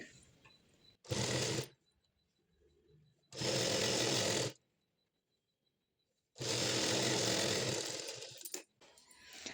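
Sewing machine double-stitching a folded hem on patiala pants, three bursts of fast running stitches separated by pauses, loud and close with light handling noise between runs.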